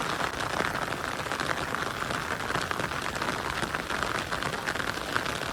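Light, steady rain falls on surfaces around a village home, a dense even patter that continues unbroken without thunder.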